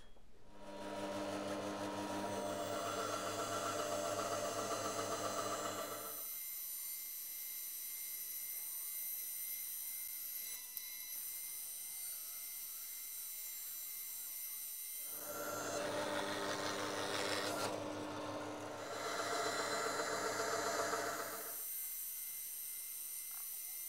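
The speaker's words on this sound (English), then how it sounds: "I've set my bandsaw blade at 8mm, so we're going to do 4 8mm cuts" Bandsaw ripping thin strips of wood for a dice tray, a loud steady whirring cut that runs for several seconds, drops to the quieter idle hum of the saw, then cuts again in a second long pass.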